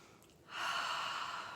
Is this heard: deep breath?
yes